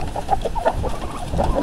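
Short clucks and calls from a rooster on a farm with turkeys nearby, a few close, uneven bursts over low background rustle and no talking.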